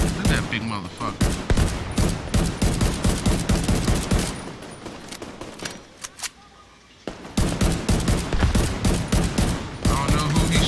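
Rapid bursts of automatic gunfire crackle through a firefight in the video game The Division 2, dense and loud, dropping out briefly near the middle before resuming in sustained volleys.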